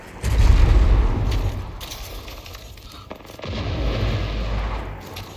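Gunfire in the Apex Legends video game, heavy booming shots in two bursts near the start and end, with a quieter rumbling stretch between them.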